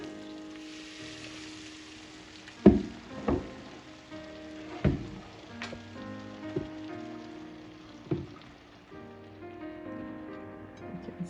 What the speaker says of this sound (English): I'll be frying them in the same oil that I used to fry